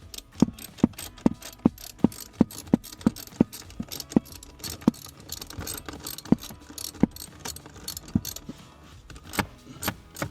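Socket wrench ratcheting on a 6mm bolt inside a Tesla Model 3 or Model Y cabin, giving repeated sharp clicking bursts in an uneven rhythm, close and clear with no talking.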